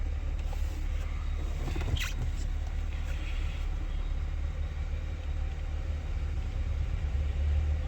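A 2002 Pontiac Bonneville with a 3.8 engine runs steadily with an air pump working under the hood, giving a low continuous rumble and hum with faint clicks and brief higher noises over it, no talking.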